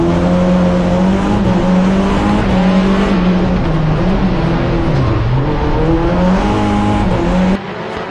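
Rallycross race cars, a Volkswagen and a Hyundai i20, race on a mixed dirt circuit, their engines loud and continuous with rising and falling revs through gear changes.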